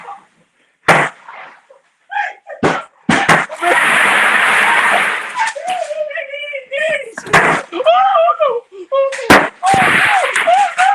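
Fireworks bang repeatedly in sharp loud cracks, with a sustained crackling burst in the middle, while people shout and talk excitedly over and between the blasts.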